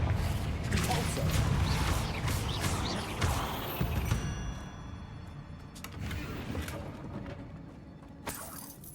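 Repulsor spell cast in Hogwarts Legacy, a forceful whooshing blast with crashing, smashing impacts over a busy game soundscape, followed by a ringing decay.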